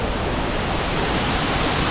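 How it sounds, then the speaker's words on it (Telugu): Mountain waterfalls on the Kedarnath trek roar as a steady, loud broadband rush of falling water, continuous and unbroken for the whole stretch with no voices. "ఇంకొక పెద్ద జలపాతం చూపిస్తా. చూడండి జలపాతాలు."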